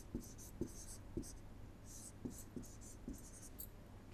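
A pen or marker writes a chemical structure by hand during an organic chemistry lesson, giving soft scratchy strokes broken by several faint taps, close and quiet over a steady low hum.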